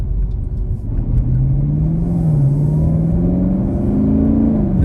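A 2022 Camaro SS 1LE with automatic transmission driving in its tour mode, its engine giving a steady, close, loud rumble that rises smoothly in pitch as it accelerates, with no talk over it.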